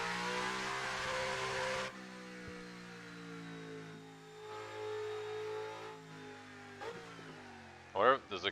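Corvette race car engine on a time attack practice lap, a steady droning mid-pitched hum with shifting revs, heard from inside with light clatter near the end.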